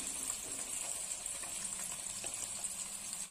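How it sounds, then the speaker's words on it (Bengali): Potatoes frying in oil in a pan, with a steady, close hiss and sizzle that runs without a break until it cuts off at the end. "আলুটা ভাজা হোক, একটু লাল লাল করেই ভাজা হবে।"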